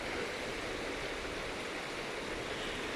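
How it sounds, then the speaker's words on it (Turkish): Steady, uniform rush of a flowing stream, the Hacı Ahmet creek in Balçova, running continuously without pauses or voices. "Dere ne kadar güzel akıyor."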